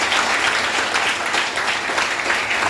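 Dense, sustained applause from a student audience at a motivational class held in a government degree college in Jagtial, with steady, even clapping that fills the whole stretch and no break.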